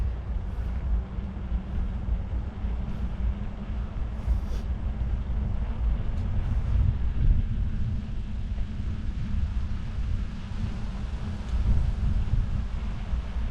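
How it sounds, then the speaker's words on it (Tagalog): Steady, strong wind roars across the microphone in low buffeting gusts, continuous throughout with no voices. "Malakas ang hangin."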